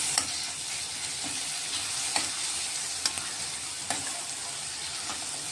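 Onions sautéing in a pan with ground green chillies, garlic, ginger and cumin, a steady soft sizzle broken by occasional clinks and scrapes of a stirring spoon, heard close up with no talk.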